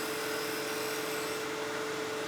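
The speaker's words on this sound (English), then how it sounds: "grab a negative rake scraper, and then we can use that and just lightly touch the surface" A negative rake scraper lightly smooths a spinning wooden top on a lathe, a steady whirring hum with a faint constant scraping hiss and no break, no talk.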